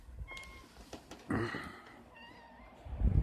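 A cat meows a few times nearby, short soft cries followed by a longer, louder one, with faint background noise.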